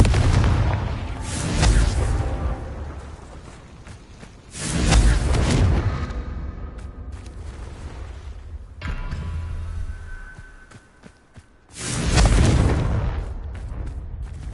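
Three heavy fire-blast booms from the Confringo spell in Hogwarts Legacy, each a loud rumbling burst trailing into a low roar, spaced several seconds apart over continuous game ambience.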